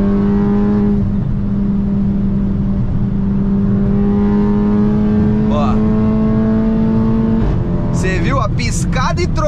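Volkswagen Golf GTI tuned to 450 hp, engine droning loud and steady at high revs, then revving harder and climbing in pitch near the end, heard from inside the car.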